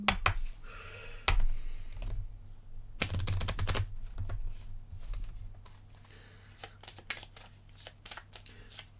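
Playing cards being riffle-shuffled close by in several quick fluttering bursts, with clicks and a low hum in between and no voices.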